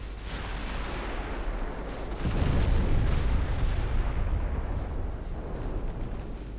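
A torpedo strikes and explodes against a warship in the naval game Ultimate Admiral: Dreadnoughts, a loud, deep rumbling blast swelling over a steady low background roar and fading slowly.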